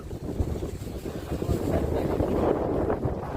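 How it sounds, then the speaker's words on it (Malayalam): Strong wind buffets the microphone in a loud, continuous roar with low gusty rumbling on the seashore at Vizhinjam, Kerala, and no one speaks. "നല്ല കാറ്റുണ്ടല്ലേ"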